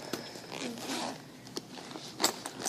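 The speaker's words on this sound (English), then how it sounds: "Oh, that's the big zipper." A zipper is pulled open on a tactical waste bag, close up, in a series of short raspy zips and stops with small rustles between them.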